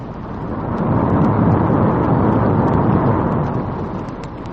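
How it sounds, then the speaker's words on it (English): Niagara Falls roaring as a thundering waterfall, a dense, continuous low rumble of crashing water that swells slightly and holds steady throughout, loud and close with no voices. "behind the thundering falls"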